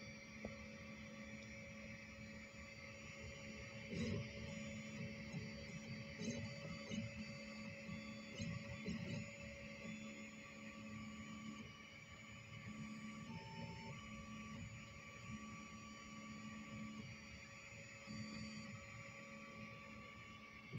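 Sculpfun S9 diode laser cutting out a shield badge at 34% speed and full power, a steady whine with fan hum and faint ticking movements, running alone throughout.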